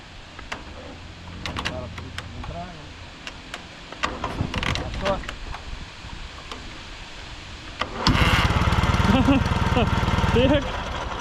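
Homemade tricycle fitted with an MT-10 motorcycle engine, started in a garage: clicks and cranking, then the engine catches and runs loudly and steadily for the last few seconds, with people talking nearby.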